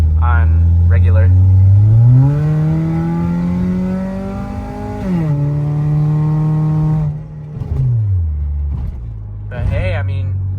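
A Ford Fusion engine running on 93-octane fuel revs up loudly and holds a steady drone, then drops back and climbs again in several rising and falling sweeps, with no talking.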